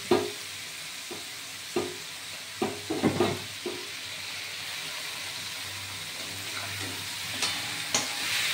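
Boiled banana flower stirred and fried in a pan for a Bengali mochar muri dish: a steady sizzle under repeated sharp scrapes and clinks of a spatula against the pan, close and moderately loud.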